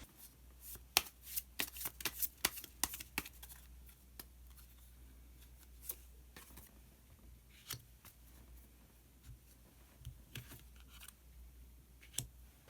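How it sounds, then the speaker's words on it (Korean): Tarot cards are shuffled and drawn in a quiet room, with a quick flurry of crisp riffling snaps at first, then scattered, softer card slides and taps, close and faint. "카드 한 장을 더 뽑고 이야기 계속 나오도록 하겠습니다."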